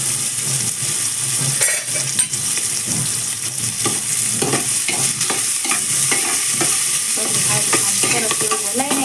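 Onion fries in hot oil for a desi kadhi pulao, a constant loud sizzle broken by repeated scraping strokes of a spoon stirring it around the pan, close up and without any talk.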